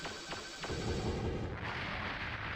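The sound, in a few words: turret gunfire in Armored Core video game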